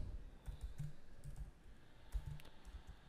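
Typing on a computer keyboard while writing ReactJS code, with irregular bursts of soft clicking keystrokes, close and fairly quiet, with no talk.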